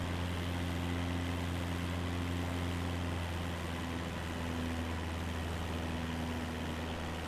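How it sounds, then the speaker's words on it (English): Steady droning engine hum from an aircraft in a flight video game, over-revving under a crosswind, with strong low tonal bands holding level and loud throughout, no talk. "I'm over revving a lot. Let me turn it down."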